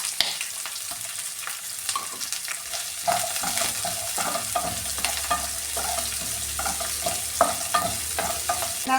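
Curry leaves and shallots roasting in a pan for Kerala-style prawn roast, a steady close sizzle with repeated stirring scrapes and clicks of a spatula throughout.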